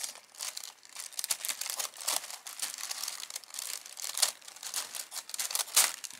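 Close paper crinkling and rustling as scissors cut open a paper envelope, with brief crisp snips and tearing, steady handling noise without speech.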